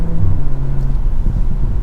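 Engine of a 2024 BMW M340i xDrive in Sport Plus mode, a steady loud low drone heard from inside the car with a faint rising tone and no talking.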